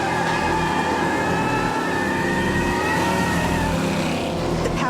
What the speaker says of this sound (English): Under the hood, the supercharged small block V8 snarls like a cougar.